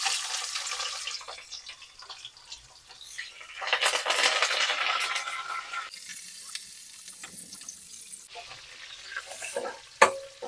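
Onions drop into hot oil for a Nellore-style fish curry, setting off bursts of bright sizzling hiss that swell and fade between quieter stretches, ending with a sharp metallic clink, with no voices.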